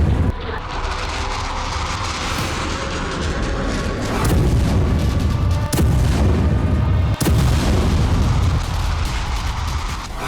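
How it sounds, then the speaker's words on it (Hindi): Storm Shadow missile strikes on Russian cities in Kursk province: a loud, continuous roar of blasts and rumbling with several sharp, heavy detonations punching through, heard from a distance. "यूक्रेन के स्टॉर्म शैडो हमले में रूस के कई शहर बुरी तरह से दहल गए।"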